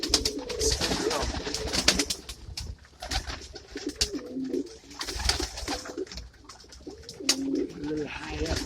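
Pigeons at a backyard coop coo in low, repeated rolling calls, close by, with occasional wing flaps and scattered rustling noises between the calls.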